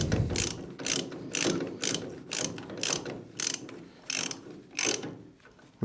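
A hand ratchet on an extension tightens a bolt on a bright orange de-powered steering kite bar setup, with repeated quick clicking bursts in a steady rhythm, close and clear with no talking.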